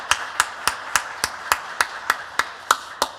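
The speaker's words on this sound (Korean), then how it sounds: "박수 한번 쳐주세요." A church congregation at a Sunday worship service claps in steady unison, about eleven sharp, even beats in quick succession with no talking over them.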